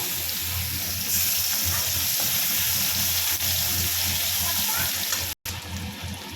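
Green chillies frying in a pan of oil while an ilish fish curry is being cooked, giving a steady close sizzle and bubbling hiss throughout with a brief break near the end.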